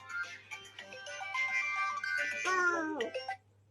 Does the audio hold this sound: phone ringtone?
yes